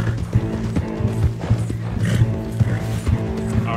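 Horse hooves clop in a steady galloping rhythm while riding in Red Dead Redemption, with a continuous game soundtrack and ambient noise running underneath.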